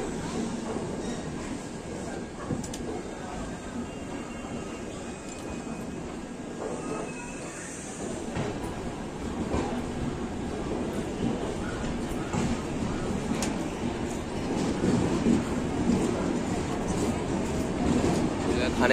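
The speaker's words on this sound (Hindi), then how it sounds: "एक्चुअल टाइम 2:55 पे हमारी ट्रेन निकल गई है हरिद्वार से।" The Dehradun Subedarganj Express pulls out of Haridwar, heard from inside the coach as a steady low rumble of wheels on track that gradually grows louder, with a person talking over it.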